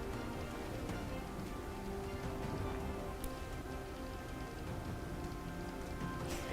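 Steady rain falls across Delhi, a continuous dense hiss of drops striking surfaces with no talk over it and no break.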